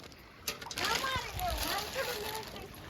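Feet splash through rain-flooded street water, a burst of sloshing and spattering as voices, including a child's, talk over it.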